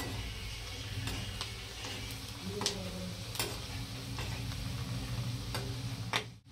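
Chopped onion frying in oil for egg curry until reddish, a steady, moderate sizzle broken by sharp spatula clicks and taps on the pan at irregular intervals.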